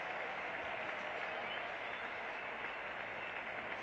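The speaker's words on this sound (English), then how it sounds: "listen to that applause" Faint, steady applause from a large cricket crowd at a 1978 England vs Pakistan Test match, an even patter of many hands clapping continuously at a distance.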